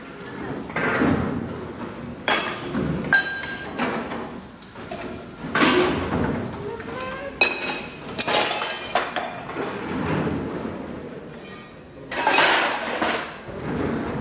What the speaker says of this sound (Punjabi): ਭਾਂਡਿਆਂ ਦੀ ਸੇਵਾ ਕਰਦੇ ਹੋਏ